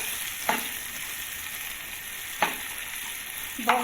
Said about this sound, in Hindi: ये खजूरें ऐड करेंगे और ये किशमिश। इसको हम लो फ्लेम पे फ्राई करेंगे।